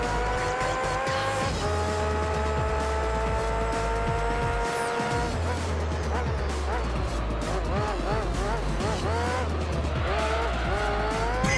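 Race cars in Gran Turismo 3 screaming through gears with rising and falling engine whine and long tire squeals, loud and continuous, with a voice talking over the game.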